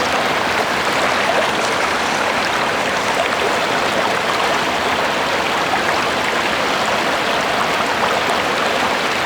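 A small mountain brook on a trout stream rushes steadily with an even, hissing babble of flowing water, close and fairly loud, unchanging and with no voices.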